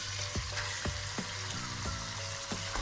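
Chopped purslane sizzles in a pan under a steady frying hiss while a utensil scrapes and stirs in regular strokes, close by.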